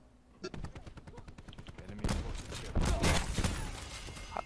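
Call of Duty Black Ops 4 gunfire: a rapid string of sharp shots, joined after a couple of seconds by heavier overlapping bursts that grow louder and denser, with faint voices underneath.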